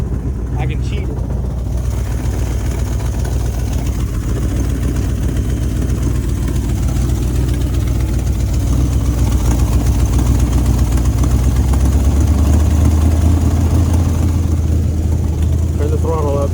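A 1970 Ford Mustang V8, run with no throttle linkage, idles steadily with a low, constant rumble that swells slightly as it is idled up near the end; a voice talks briefly over it.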